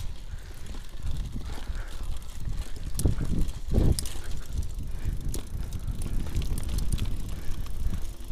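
A bicycle rolling along a dirt trail race course, tires crunching and chain rattling close to the microphone amid wind buffeting, with a few sharper knocks and bumps over rough ground.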